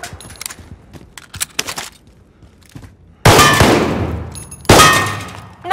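Sparse clicks and clatter at first, then two loud, sharp bursts of gunfire, each ringing out and fading, clearly a game's weapon sounds.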